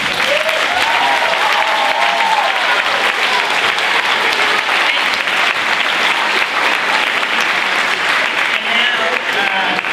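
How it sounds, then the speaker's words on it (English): Sustained, loud applause from a middle school band concert audience, steady clapping throughout with some voices mixed in. "she deserves a round of applause"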